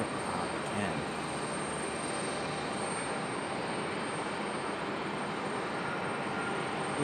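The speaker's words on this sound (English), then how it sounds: "Lufthansa off in the distance as we have that little E-175 down here just below us" Airliner on final approach at Raleigh-Durham International Airport, with a Lufthansa jet arriving from Frankfurt and a small Embraer E-175 nearby, heard as a steady, broad engine roar that stays constant throughout, with faint talk.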